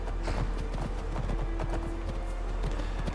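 Steady clip-clop of horse hooves trotting in a continuous rhythm in the video game Skyrim, fairly close, with a constant low background hum and no talking.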